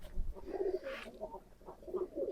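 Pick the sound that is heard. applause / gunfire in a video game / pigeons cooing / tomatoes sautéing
pigeons cooing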